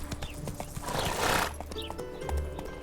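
A horse in The Witcher 3 gallops and neighs loudly, pounding hoofbeats under a drawn-out whinny in the middle, with faint game music behind.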